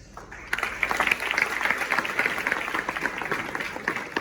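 An audience at a youth festival programme bursts into applause after a brief quiet moment, dense clapping that stays fairly even and moderately loud before easing slightly toward the end.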